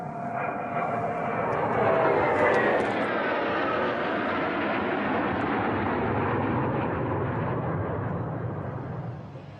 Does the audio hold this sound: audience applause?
no